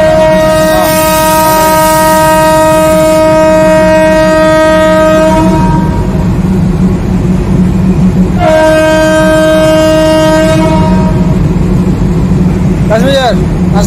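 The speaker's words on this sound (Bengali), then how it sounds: "ট্রেন তো বেরিয়ে গেল" A train pulling out of a station, loud and close, with a long sustained horn blast, a second horn blast a few seconds later and a rumbling rail drone underneath. Voices can be heard briefly.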